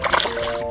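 A bass caught from a kayak on the Leon River thrashes and throws a sudden close splash of water, with brief sloshing after.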